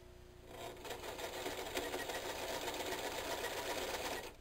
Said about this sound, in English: I take this and I bring this over to the serger. And hopefully this doesn't wreck my serger. It's very thick.